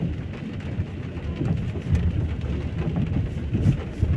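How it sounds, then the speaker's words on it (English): Heavy rain pours steadily outside at Lewsey Farm in Luton, a dense, continuous hiss and patter close by with no break. "There's a lot of rain been falling."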